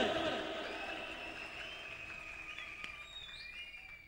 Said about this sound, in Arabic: شفت كيف صفقوا لك؟